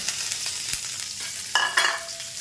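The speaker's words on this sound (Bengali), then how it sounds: "আলুটা ভাজা দিয়ে দেব।" Potatoes frying in a little oil in a wok with turmeric and salt, a steady low sizzle broken by a few sharp stirring scrapes near the end, no voices.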